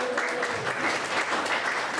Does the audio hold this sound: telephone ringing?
no